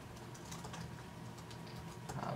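Rapid typing on a computer keyboard, a continuous close run of light key clicks with no talking.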